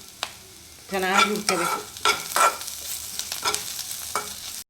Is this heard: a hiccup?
no